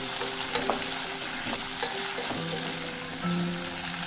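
Curry leaves dropped into hot oil for a small-onion and fenugreek kuzhambu sizzle and crackle loudly and continuously up close, with a few light pops and stirring scrapes and no voices.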